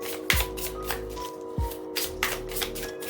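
Tarot cards riffled and bridged in two quick bursts, a crisp fluttering rush each time, with softer handling taps between; close by and fairly quiet, no talk.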